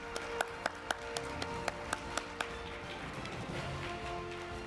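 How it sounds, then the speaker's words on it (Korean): An audience at an opening ceremony claps in a series of sharp, evenly spaced claps that give way to a broad, steady wash of applause filling the hall. "네, 다시 박수 부탁드립니다."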